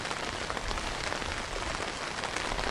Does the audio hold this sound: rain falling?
yes